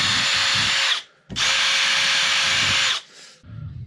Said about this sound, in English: any kind of a wire brush on a drill probably work really great for getting this white